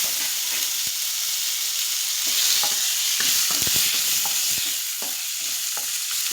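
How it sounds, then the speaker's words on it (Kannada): Tomato and chopped green chilli frying in a pan for pepper rasam, a steady close sizzle with scattered clicks and taps of stirring throughout, no voices. "ಟೊಮೊಟೊ ಸ್ವಲ್ಪ ಚೆನ್ನಾಗಿ ಫ್ರೈ ಆಗಲಿ."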